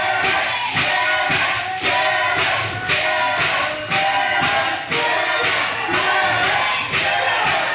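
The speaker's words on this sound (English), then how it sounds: "as this crowd is getting behind Derek Jannetty" A wrestling crowd cheers and roars loudly for a wrestler in the ring, surging in repeated waves of shouting with no break, close and dense.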